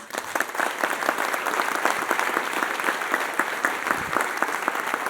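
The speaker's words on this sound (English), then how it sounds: "So how about a round of applause for them?" A university audience claps steadily through a State of the University address, a dense, even round of applause heard alone without talk.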